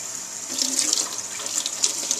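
Cool tap water runs steadily from a faucet to rinse kefir grains, a close, moderately quiet hissing splash that fluctuates slightly as the flow hits the grains, with no voices.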